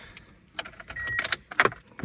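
Car keys jangle and clink in several short metallic bursts close to the microphone while a driver readies the ignition of a 2003 Toyota Altis with a busted ignition coil.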